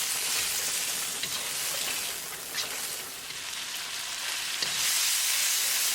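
Shrimp frying on low heat with garlic, salt, black pepper and red chili flakes for an Alfredo shrimp spaghetti, a loud dense continuous sizzle like rain, with a few soft stirring touches, close and without talk.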